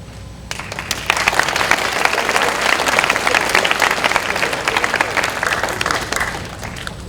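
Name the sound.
applause in a student assembly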